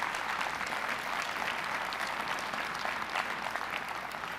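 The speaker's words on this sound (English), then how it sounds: "So please have a round of applause." A convention audience at a research keynote gives a round of applause, a steady dense clapping that holds at even loudness throughout.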